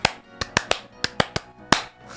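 Eight sharp hand claps in an uneven rhythm, close and crisp, with short silent gaps between them.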